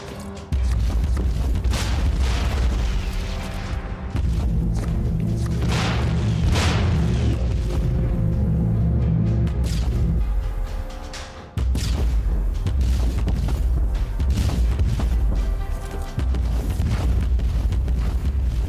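Mines detonate in Warhammer 40K: Inquisitor - Martyr gameplay as a dense, continuous wash of booming blasts and rumbling explosions, loud and sustained with only a brief dip partway through.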